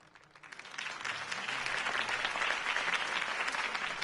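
Crowd applause for Harvey Dent's campaign speech in the Batman Telltale video game, rising from quiet into a full, sustained roar of clapping that holds steady to the end.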